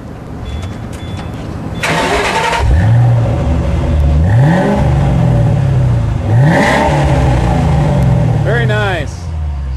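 Ford Mustang GT500 with a full long-tube 3-inch Flowmaster catback exhaust revving loudly nearby, several sharp rising blips settling back to a deep burbling idle, with people talking briefly around it.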